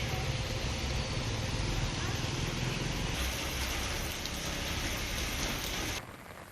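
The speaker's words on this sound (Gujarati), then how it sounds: "વહેલી સવારથી જ ગાજવીજ સાથે રાજપીપળામાં ભારે વરસાદ વરસ્યો" Heavy unseasonal rain pours down in Rajpipla early in the morning, a dense, loud, steady hiss of drops on surfaces that carries on unbroken and dips slightly near the end.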